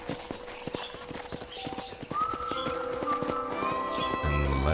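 Rhythmic clip-clop of horse hooves in the video game Red Dead Redemption, steady walking beats close by, joined partway through by sustained musical tones from the game.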